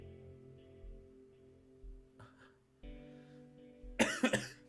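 A sudden loud cough, close to the microphone, breaks in near the end over a quiet background of soft music.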